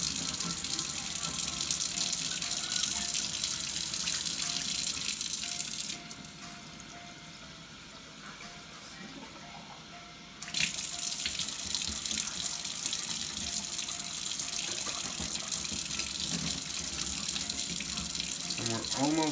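Water drains and gushes out of a glass Cali waterpipe as it is rinsed during cleaning, a steady loud splashing rush that drops to a quieter trickle midway before surging again.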